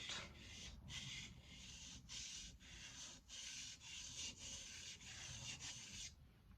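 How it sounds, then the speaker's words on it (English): Knife sharpening on a butchering knife: repeated rhythmic scraping strokes of steel across a sharpening surface, about a dozen close, steady passes with brief gaps between them, alone with no talk. "as I am sharpening this, I actually am feeling this knife smooth out"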